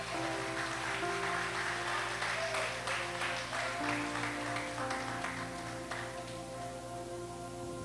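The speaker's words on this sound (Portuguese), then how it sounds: "aplauda ele bem forte, bem forte" Applause from a pastors' and leaders' conference audience for a speaker, steady dense clapping over sustained organ or keyboard chords and musical tones, fairly even in level throughout.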